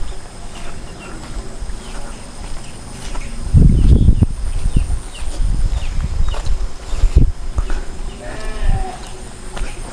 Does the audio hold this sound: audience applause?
no